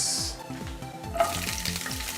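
Capsicums and a cinnamon stick sizzle and crackle steadily in hot oil, with a constant frying hiss and some stirring noises close by.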